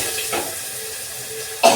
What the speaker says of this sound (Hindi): तेल मेरा गर्म हो चुका, मैं सारे मसाले इसमें डाल देती हूँ।